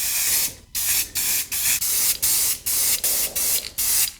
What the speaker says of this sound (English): You don't need to spray paint the very bottom because it's going to be inside our little container light bulb thingy.